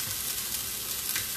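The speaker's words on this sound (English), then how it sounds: "I got my red onions going" Red onions sizzle steadily in a hot pan, a close, continuous frying hiss with no voices.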